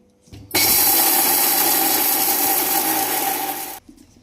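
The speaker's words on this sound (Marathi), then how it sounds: "आता हे वाटून घ्यायचंय।" A mixer grinder runs loud and steady for about three seconds, grinding paan leaves with roasted fennel powder into a batter, starting abruptly and cutting off sharply.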